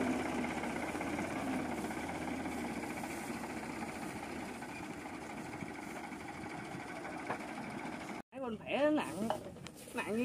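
A Ford tractor engine runs with a steady, close mechanical chug and rattle for about eight seconds, then cuts out, and a person starts talking.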